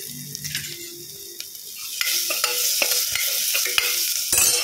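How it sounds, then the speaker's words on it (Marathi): Garlic and ginger sautéing in a pan, a steady close sizzle broken by scraping stirs and a few sharp clicks of the spatula against the metal, with no talk over it. "आता सोनेरी रंगावर येईपर्यंत परतून घेते।"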